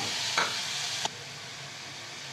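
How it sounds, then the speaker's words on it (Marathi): Vegetable sabzi is stir-fried in a pan: a soft, steady sizzle broken by a few sharp spatula scrapes and clacks, close and unaccompanied by speech. "अगदी अर्धा सेकंदच आपण परतून घेणार आहोत"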